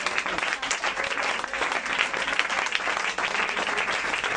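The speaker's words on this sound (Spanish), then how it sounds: "Aplaudamos el nombre del Señor Jesús." A church congregation at a Spanish-language ministry school session applauds together, producing a steady wash of many hands clapping at moderate volume that continues unbroken and without speech.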